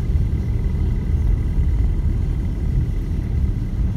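A car engine rumbles and pulls away during a driving lesson, a low, steady, close rumble under faint road noise, with no talk.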